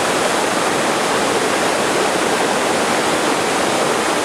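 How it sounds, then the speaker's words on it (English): A waterfall on the Falling Waters Trail, a steep mountain stream on Franconia Ridge in New Hampshire, roaring close and loud as a constant, even rush of falling water with no voices. "Don't know if I'll ever get to the top if they keep having these beautiful waterfalls."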